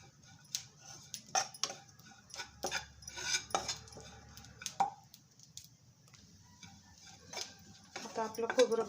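Grated coconut being dry-roasted in a pan while millet laddus are made, with a spoon scraping and clinking against the metal in irregular strokes, close and moderately quiet, alongside faint background noise.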